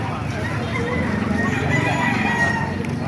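SBR gamefowl rooster crowing nearby, a loud sustained cock-a-doodle-doo over constant clucking and farmyard noise, with a voice talking faintly underneath.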